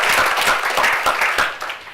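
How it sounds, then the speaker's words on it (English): Audience at a CEO panel forum applauding, a steady wash of many hands clapping for about two seconds before fading slightly. "that's worth a round of applause, guys"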